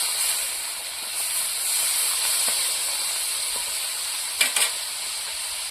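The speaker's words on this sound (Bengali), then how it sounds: "মশলা বাটার জলটা দিয়ে দেবো আগে" Water hits a hot spice paste in a pan for a vegetarian cauliflower roast, giving a steady, close, loud sizzling hiss that holds throughout, with a brief louder burst near the end.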